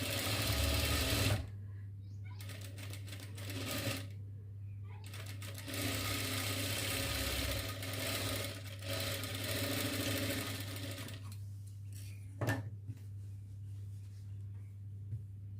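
A sewing machine runs in long steady bursts while stitching a double-lining frock, its motor humming with a few brief pauses between seams.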